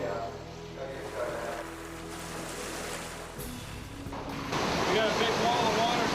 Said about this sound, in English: We got a big wall of water coming right now.